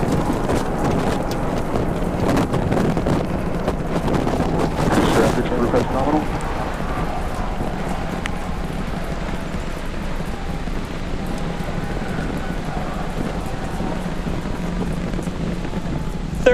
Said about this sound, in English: 30 seconds into flight, we are feeling the rumble. We are seeing 33 out of 33 Raptor engines ignited on the Super Heavy booster